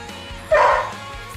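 A dog gives a single short, sharp bark at close range, standing out against quiet background hiss.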